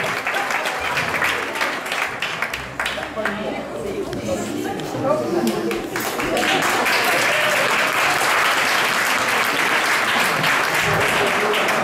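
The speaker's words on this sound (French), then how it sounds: "Merci, on applaudit bien fort." An audience at the Miss Nouvelle-Calédonie 2013 beauty pageant gala applauds, a dense and loud crowd clapping that starts under a voice and swells into steady ovation with some chatter.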